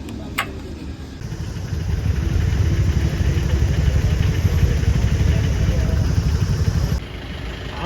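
A motorcycle engine idles steadily at a fuel station while the tank is filled, a low continuous rumble close by that swells after a moment and holds, then drops away near the end.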